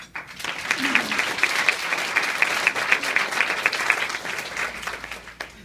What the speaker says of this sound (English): Will you please join me in applause for him?